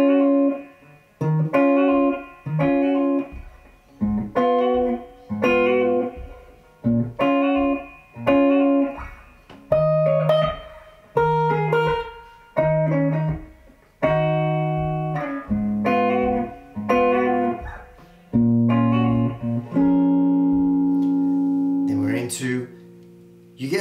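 An acoustic guitar strums the chords of a reggae song in a clear, rhythmic pattern. Sustained chord changes are heard close up, with no singing.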